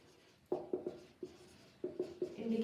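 Chalk or marker strokes on a board during a lecture on oil rancidity testing, a series of short scraping taps in irregular clusters, close and clear with no talk over them.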